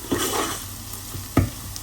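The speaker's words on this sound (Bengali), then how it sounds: "যখন ভাজতে ভাজতে দেখবেন এরকম একটু ঝুনঝুন শব্দ আসতেছে, তখন মনে করবেন যে ডালটা প্রায় ভাজা ভাজা হয়ে আসছে" Lentils for a bottle gourd dal frying in a pan, a steady close sizzle broken by two or three scraping stirs of the spoon.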